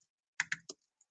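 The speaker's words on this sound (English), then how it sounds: "That's my keyboard." A few quick keystrokes on a computer keyboard: three or four close, crisp clicks in a short burst, then silence, with no talk.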